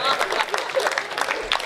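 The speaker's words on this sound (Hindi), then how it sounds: "अब बजाओ ताली।" An audience claps at a Hindi speech event: a short burst of dense, irregular applause from a crowd, close and fairly loud, with voices mixed in.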